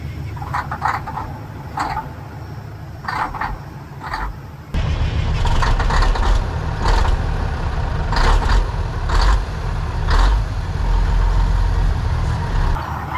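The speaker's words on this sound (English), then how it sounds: "the engine's running, we have full air pressure in the system" Old truck with a 13-speed transmission, found in a field, its engine idling nearby with a steady low rumble that grows noticeably louder partway through.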